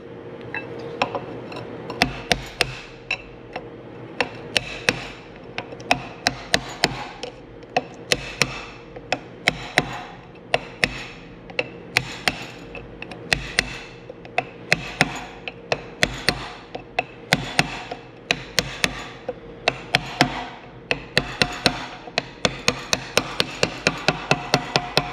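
A small brass hammer taps a bearing into place in a shop, giving a long run of light, sharp metallic ticks in an uneven, quickening rhythm over a low steady hum.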